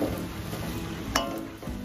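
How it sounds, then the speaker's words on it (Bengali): Semai being stirred with powdered milk in a pan, a soft continuous scraping and rustle with one brief clink of the utensil against the metal partway through. "এইভাবে ভালো করে নাড়িয়ে চাড়িয়ে নেব"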